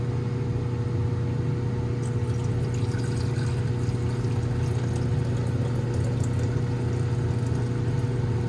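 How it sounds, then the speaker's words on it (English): About a litre of chloroauric acid gold solution pours into the lower level of an electrolytic gold refining cell. The steady liquid rush blends with a constant low mechanical hum, and nobody speaks. "So I'm gonna dump it in now to this lower level."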